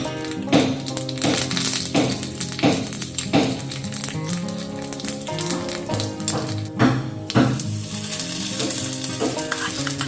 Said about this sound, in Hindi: राई और करी पत्ता डाल के सूजी में ही मैं छौंका लगा रही हूँ पहले।